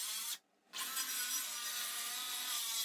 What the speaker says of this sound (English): then I use my circular saw to cut off those corners